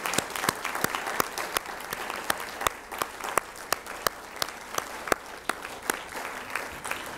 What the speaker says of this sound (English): let's give these candidates a big round of applause